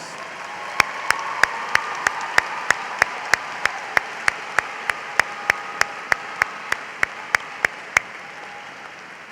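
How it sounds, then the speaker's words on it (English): A graduation convocation audience at a school of education applauds its seniors with steady, even clapping that fills the hall at moderate distance, while sharp regular clicks tick through it. "Let's give these distinguished seniors a round of applause."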